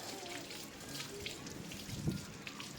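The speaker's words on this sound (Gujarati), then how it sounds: "પાણી આવ્યું, પાણી." Water from a Narmada municipal supply tap runs and trickles at a home at night, a soft, steady flow with faint splashing and a small gurgle near the end.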